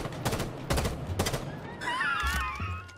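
Rapid gunfire in the video game Rainbow Six Siege, three close bursts of loud shots followed by a ringing, whistling tail.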